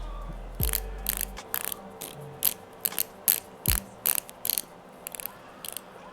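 A series of crisp mechanical ratchet clicks, close and distinct, comes in irregular bursts as the bezel of a Seiko King Turtle SBDY049 dive watch is turned step by step.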